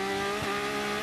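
A Porsche Supercup race car at Mexico City in 2017 gives a brief, steady engine howl with a slight dip as the throttle is eased, heard from a distance for about a second.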